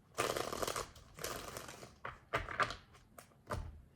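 Tarot cards are shuffled by hand in several quick, quiet bursts of papery riffling and flicking, separated by short pauses, nearby and without speech.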